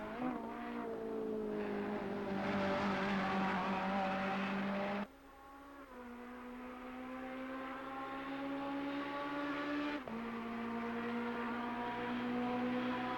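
A Ferrari GT3 EVO race car engine in Assetto Corsa Competizione, held high in fifth gear near the rev limiter, a loud steady whine with brief dips and recoveries at gear or throttle changes.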